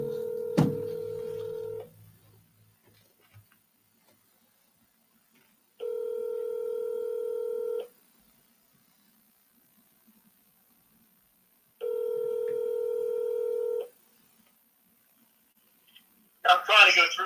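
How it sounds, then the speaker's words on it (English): Telephone call being placed, with three steady ringing tones, each about two seconds long and separated by silence. A voice starts talking at the end. "I'm going to call him real quick on the phone."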